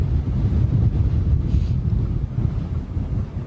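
Strong, constant wind buffets the microphone at Heathrow Airport, a loud, steady low roar with gusty rumble running unbroken throughout, no voices.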